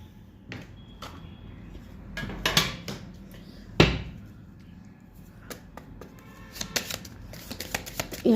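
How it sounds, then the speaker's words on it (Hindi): Tarot cards being drawn and shuffled by hand make soft, scattered riffles and taps, with one sharper card snap near the middle, all quiet and close with no talking. "यहाँ से भी मैं कुछ कार्ड्स लूँगी।"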